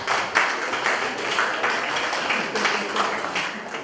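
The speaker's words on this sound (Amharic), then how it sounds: "እዚህ ጭብጨባ።" A wedding crowd applauds as the next speaker is introduced, a continuous patter of many hands clapping at moderate loudness, with a voice speaking over it.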